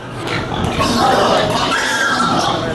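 Pigs at a piggery grunt and oink continuously in a dense, loud chorus, overlapping snorts and squeals filling the space close by.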